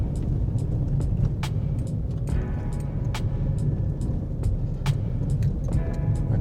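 Steady rumble of a car driving along the edge of a lake on a country road through native bush, a constant engine and road-noise drone with faint scattered ticks and rattles and no voices.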